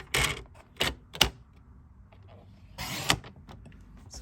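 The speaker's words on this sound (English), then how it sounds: "So I'm going to grab our paper trimmer here." A paper trimmer slices through cardstock in a few short, crisp swipes, close and fairly quiet, with a longer cutting stroke near the end.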